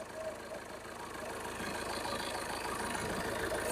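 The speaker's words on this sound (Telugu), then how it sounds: "Diesel engine." The 1.5-litre diesel engine of a 2021 Tata Nexon XZ+ S idles nearby with a faint, steady low clatter and hum. A voice speaks briefly near it.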